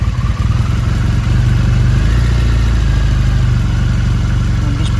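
A 2001 Triumph Bonneville motorcycle engine idles steadily with the choke on while still cold, a close, loud, even low thrumming that runs throughout with no talking.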